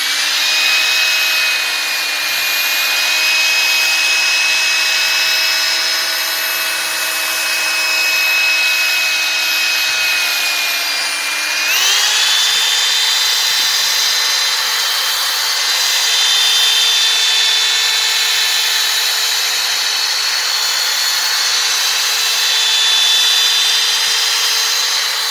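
A headlight being wet-sanded with glass cleaner by a power sander, giving a continuous loud whine whose pitch steps up slightly midway, close and steady, heard alone.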